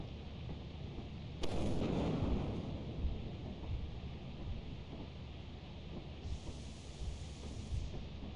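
Thunder from a lightning strike in the video game Lethal Company: a sudden loud crack that rolls into a long, low rumble over steady rain and wind noise.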